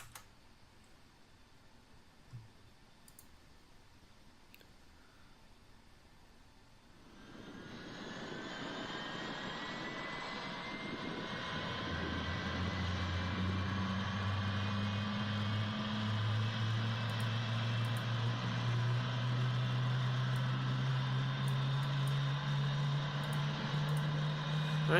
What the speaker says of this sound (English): Right, engine 2 I guess has started